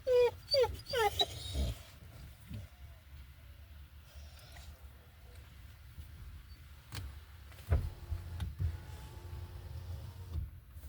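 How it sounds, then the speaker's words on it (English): An excited dog in a car parked beside a local park yelps and whines in quick, loud bursts at first, then gives occasional short barks over low engine rumble and faint background noise. "my dog gets excited to come here."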